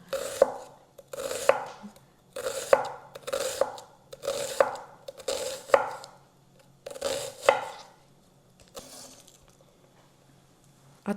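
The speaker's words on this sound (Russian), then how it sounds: "листья, зелень мы мелко нарезаем, поэтому все ингредиенты нарезаем очень мелко" A knife finely chops herbs on a cutting board in quick rhythmic bursts, close and crisp, pausing between rounds before falling quiet near the end.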